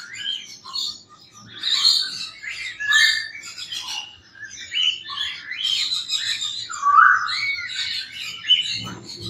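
An ino cockatiel and a pearl cockatiel breeder pair call back and forth in close, loud squawks and chirps that rise and fall in repeated bursts, with no talking.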